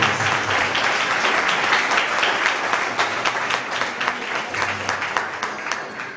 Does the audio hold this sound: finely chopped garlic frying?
no